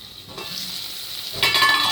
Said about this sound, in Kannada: ಒಂದು ಸೈಡು ಸ್ವಲ್ಪ ಫ್ರೈ ಆಗಲಿ